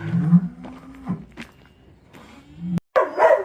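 A dog barks and whines in short bursts, fairly close, with quiet gaps between and a louder yelp near the end.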